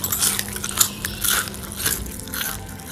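Crisp bites into fried potato pakoras, several loud crunches and crackles up close, with chewing between bites and no talking.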